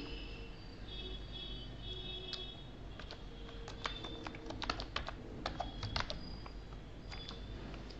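Someone types a company name into Tally Prime on a computer keyboard: quiet, irregular key clicks come in short bursts and grow denser toward the middle, over a faint background hum.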